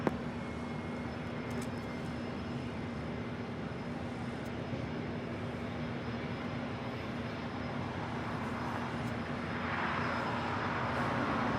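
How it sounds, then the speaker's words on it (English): A Gulfstream G450 business jet inbound from Monterey, California on approach to Los Angeles International Airport, its steady engine roar holding at moderate, even loudness for the whole span with a faint rise near the end and no voices. "This Gulfstream G450 is coming in from Monterey, California on FlexJet 468"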